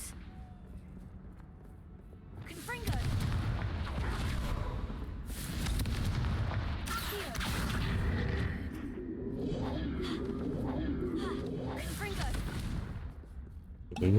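Confringo blasting curses go off in Hogwarts Legacy, heavy rumbling explosions with crackling bursts that come in long, loud waves one after another.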